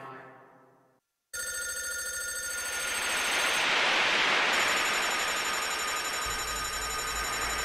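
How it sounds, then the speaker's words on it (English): A telephone bell rings loudly and continuously in a steady electronic trill after a short silence, with no voices present. "Go, go pick up the phone."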